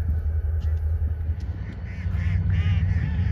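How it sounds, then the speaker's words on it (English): Mallard ducks and other ducks quack in a cluster close by, overlapping calls rising toward the end over a steady low rumble of wind or engine noise. "Look at all the different ducks."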